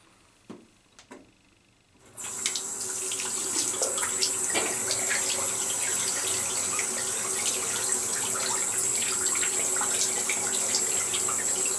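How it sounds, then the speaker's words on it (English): A shaving brush is rinsed under a running tap, a steady close splash of water that starts suddenly after a few faint knocks and keeps flowing evenly. "Rinse the brush out."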